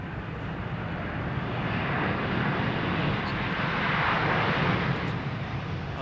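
A jet aircraft arriving on runway 27R at London Heathrow, a loud, steady, broad engine roar that swells slightly as it passes nearby and holds throughout.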